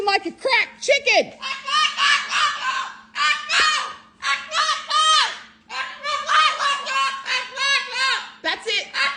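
Pet parrots squawking harshly while fighting, loud, rapid, overlapping screeches and honking calls that carry on almost nonstop, close by.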